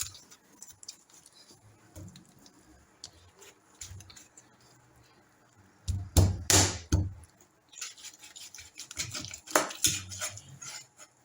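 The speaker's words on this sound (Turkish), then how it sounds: "bu forma belə bunları xırdalayıram" A knife taps and chops on a board in irregular clusters, cutting ingredients for plov, quiet at first and then louder, with faint kitchen clatter between strokes.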